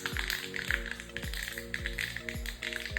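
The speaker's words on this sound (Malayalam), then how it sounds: "കടുക് പൊട്ടിയിട്ടുണ്ട്" Mustard seeds splutter in hot coconut oil while tempering for a Kerala-style pickled mango curry, giving close, steady crackling with a run of sharp popping thumps about every half second.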